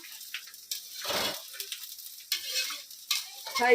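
Edible gum (gond) fries in ghee for adadiya with a soft, intermittent sizzle and bubbling, broken by a few faint stirring clinks. The sound is quiet and close, with no talk.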